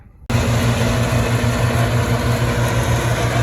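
T-40AM tractor engine at a sunflower field starts up abruptly after a brief quiet moment, then runs at a loud, close, steady idle with an even rhythmic diesel throb throughout.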